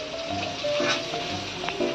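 Potato pieces frying in oil give a moderate, even hiss with a few light crackles, close by, over a low steady hum and some faint tonal sounds.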